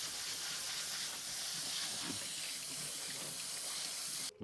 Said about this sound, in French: Tac, on le rince. Juste on le rince.